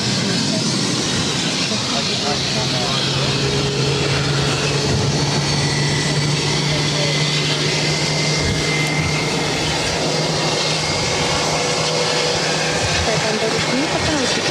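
Bombardier Global 6000 business jet taking off from runway 22 right at Boston Logan, a steady broadband engine roar holding at close range for the whole stretch, with a voice talking over it.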